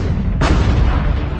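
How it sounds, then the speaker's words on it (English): American artillery fire pounds the city of Messina during the World War II Sicily campaign, landing as a single loud, deep boom that rumbles on afterward. "American gunfire tears the city to pieces"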